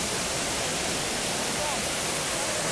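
Water at the Trevi Fountain in Rome pours and splashes in a dense, continuous hiss that fills the whole scene without a break.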